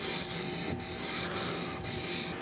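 Benchmade Griptilian knife blade rubbed across Matrix sharpening stones, resting on its flat section, makes soft rasping strokes in a steady rhythm, about four passes with short pauses between, close and fairly quiet.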